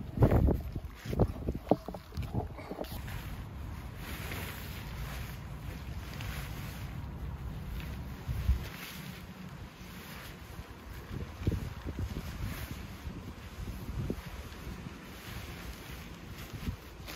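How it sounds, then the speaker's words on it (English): Gusty wind buffets the microphone at a country-park campsite where a tent is being pitched, producing a steady, rough rumble with a few heavier bumps near the start. "It's just starting getting windy as well."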